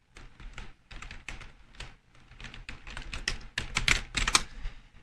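Steady typing on a computer keyboard, with quick clustered keystrokes in uneven bursts and short pauses, close and moderately loud, with no talking.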